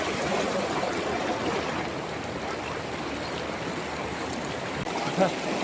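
A river runs steadily at a riverside camping spot, an even broadband rush of flowing water throughout with a brief louder splash near the end.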